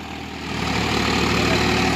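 A Swaraj 4x4 tractor engine labours steadily while ploughing with its tyres slipping, a dense, loud low drone that swells slightly and holds without pause.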